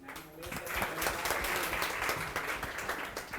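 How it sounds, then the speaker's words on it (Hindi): Audience applause for a teacher at a parents and teachers meeting, a sustained round of clapping from a small crowd that builds quickly after a brief quiet start and holds steady. "उमेश सर के लिए ताली।"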